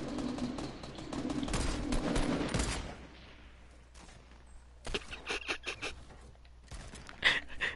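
Bursts of video game gunfire spamming bullets near a house, a dense rattling volley up front, then a quiet lull, followed by scattered sharp shots and short bursts at moderate distance.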